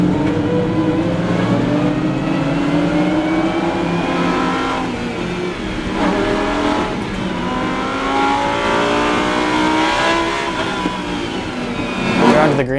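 A Lamborghini Super Trofeo race car accelerating hard at the green-flag race start, its engine loud and close, pitch climbing through the gears with brief shift dips and more surging revs near the end.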